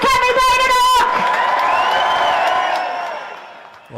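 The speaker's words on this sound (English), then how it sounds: "Big cheer for Kemi Badenoch!" A large outdoor crowd of farmers cheers and applauds for Conservative leader Kemi Badenoch, a loud sustained roar that slowly fades, with a voice calling out at the start.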